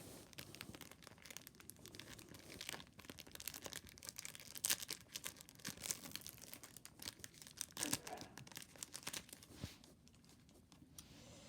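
A Yu-Gi-Oh trading card pack wrapper is torn and crinkled open close up, a faint, continuous rustle of crisp foil with scattered sharp crackles and no talking.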